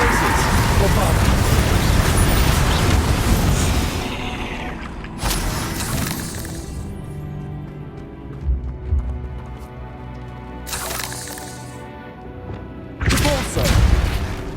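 Bombarda explosion spell cast in a video game: a few loud, sharp blasts spaced several seconds apart, over dense game noise and rumble.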